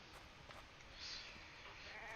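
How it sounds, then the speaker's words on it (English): Sheep bleating in a survival video game, a faint, thin bleat rising over a steady background hiss and ambient game sound, brief and somewhat distant. "I hear sheep."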